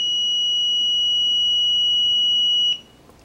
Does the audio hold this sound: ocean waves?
no